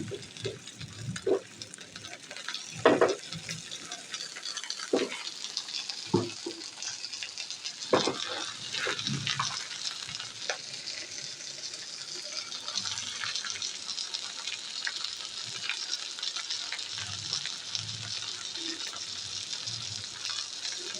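Ginger and garlic sizzling in hot beef fat while potatoes are stirred in a pan; a steady close frying hiss with intermittent scrapes and clinks of a spoon, faint overall.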